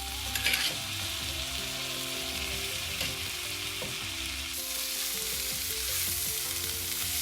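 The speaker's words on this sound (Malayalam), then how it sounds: "ഇനി ഞാൻ ഇതിലേക്ക് ആ വെന്ത പാവയ്ക്കായും പയറും കൂടി ചേർക്കുകയാണ്." Cooked bitter gourd and green beans stir-fry in a pan with fried chilli and onion, a steady close sizzle broken by a few scraping stirs and utensil knocks, no voices.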